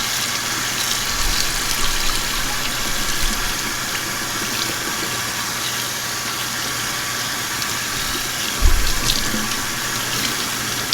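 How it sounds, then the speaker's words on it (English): Warm tap water runs steadily into a sink as a rainbow multi-bullseye spiral tie-dye tee is rinsed, a continuous close splashing rush with a brief louder surge near the end. "I'm going to start rinsing it out with some"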